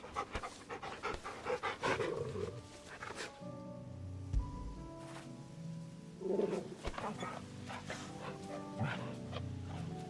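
A dog in Final Fantasy XVI pants in quick rhythmic bursts, close and clear, pausing briefly midway before resuming amid light in-game ambience.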